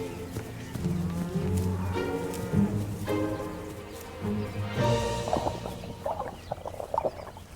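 Cattle moo repeatedly from a farm herd, several long, loud calls close by that overlap one another, with some shuffling and faint background patter.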